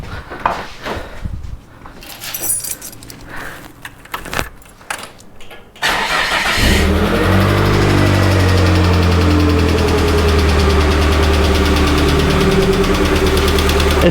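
After a few seconds of rattling and clatter, an abandoned Mazda MX6 Turbo engine with a lazy hydraulic lash adjuster cranks, catches and settles into a loud, steady idle.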